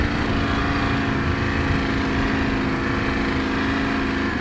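A 2018 Ducati Scrambler 1100 motorcycle rides at low speed, its engine a steady, loud, unbroken drone with rushing wind and no talking.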